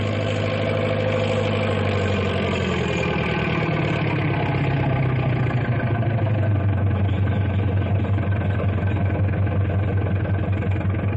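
A heavy diesel engine of a large double Caterpillar tractor idles and rumbles steadily nearby, its low throb growing deeper and stronger partway through, with no voices.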